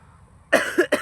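A man with a cold and cough coughs three times in quick succession, close and loud, after a near-silent moment.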